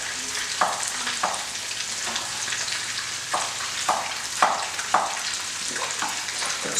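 Meat sears in a hot pan for plov as its fat renders, a steady close sizzle broken by several sharp crackles and spatters as pieces are turned.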